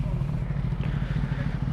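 Motorcycles pass on a road at night near Bangalore airport, with a continuous low engine rumble and drone that stays fairly close and steady throughout.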